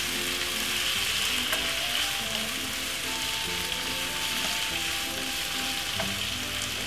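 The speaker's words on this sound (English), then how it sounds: "Give it a nice lovely stir fry. Cabbage, really nice." Cabbage stir-frying in a hot pan gives a steady, close sizzle with light scraping and stirring clatter running throughout, no voices.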